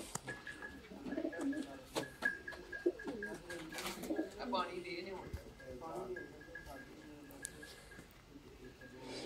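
Fancy Sialkoti pigeons coo softly in a loft among other ambient noise, with a murmur of voices throughout and several low throaty coos scattered across the span.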